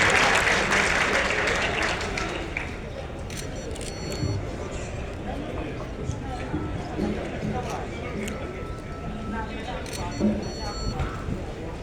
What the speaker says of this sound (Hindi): जोरदार तालियों से मुख्यमंत्री जी का स्वागत करें।